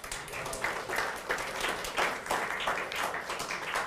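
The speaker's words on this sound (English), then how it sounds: "A round of applause" An audience applauds during a talk, a dense, steady patter of many hands clapping at moderate volume that holds for several seconds.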